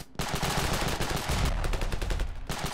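Automatic weapon fire in the video game Ravenfield, a dense, loud stream of rapid gunshots crackling almost nonstop across the whole stretch, with a brief gap near the start.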